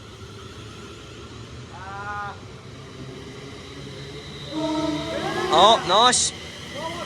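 At Rugby station, a pair of coupled electric trains, units 351.05 and 351.13, pull out with a rising whine and rumble that swells toward the end, while a person speaks briefly nearby.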